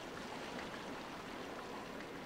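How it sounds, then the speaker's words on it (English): Water pours into a glass bottle in The Legend of Zelda: The Wind Waker, a steady, rushing stream-like flow that runs unbroken for about two seconds, fairly quiet and with no voices. "What do we do with our glass bottle? We fill it up with water, of course."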